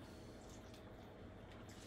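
Cuttlefish in a tomato and wine sauce stirred slowly in a pan on the stove, giving a faint, steady wet squishing and bubbling with no voices.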